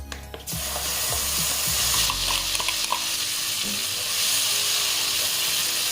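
Mashed green pea paste stirred and frying in a hot kadai with asafoetida, a steady close sizzle with scraping stir strokes, loud and continuous throughout.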